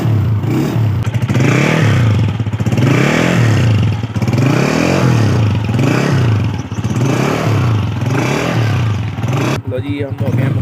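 A motorbike being wheeled out and started for a ride to university, its engine revving in steady repeated surges, loud and close, with a voice talking over it.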